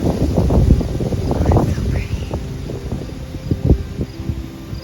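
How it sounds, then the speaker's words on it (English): Gusts of wind buffet the microphone in a weedy home garden on a very windy day, low rumbling bursts that rise and fall, with a voice talking faintly underneath. "it's a super windy day."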